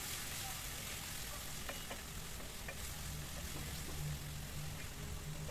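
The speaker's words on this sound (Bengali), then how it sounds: "দিয়ে আবারও ভালো করে নেড়ে চেড়ে ভেজে নেব।" Kechki fish and chopped tomatoes fry in a pan with a dense, continuous sizzle and faint stirring scrapes, close and steady, with no one speaking.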